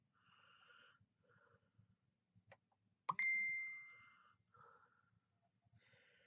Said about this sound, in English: my phone just pings constantly with folk changing presents